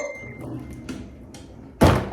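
A makeup drawer slides along with soft scraping, then lands with a sharp wooden thunk at the end.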